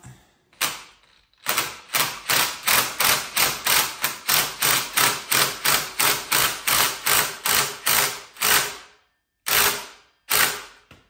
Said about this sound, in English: now we're tightening the bolt down with the Juggernaut